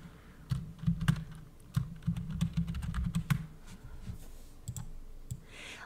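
Typing on a computer keyboard to enter text in Cricut Design Space: close, crisp key clicks come in a dense run, then thin out into a few scattered taps.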